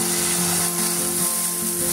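Steady, close sizzling as oil-free jowar (sorghum) batter is poured onto a hot griddle, a bright continuous hiss with a low pan hum and no talking.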